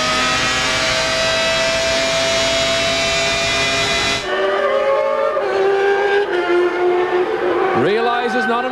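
Formula 1 race cars at the 1995 European Grand Prix, one loud engine howling steadily at high revs before cutting to another car's engine that downshifts and revs through a braking zone into a chicane, with crowd and trackside noise behind.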